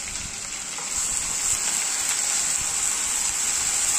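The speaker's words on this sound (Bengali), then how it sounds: "এখানে আদা রসুন এবং পেঁয়াজকে খুব ভালোভাবে নেড়ে নিচ্ছি যাতে আদা রসুনের কাঁচা গন্ধটা চলে যায়" Onion paste and ginger-garlic paste frying in a pan for beef liver bhuna, a steady, close sizzle with a bright hiss that stays continuous and swells slightly after the first second, with no voices.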